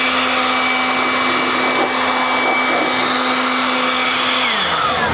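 An air blower dries a freshly coated car with a loud, steady whine and rushing airflow that holds constant, then drops in pitch near the end as it winds down; no talk.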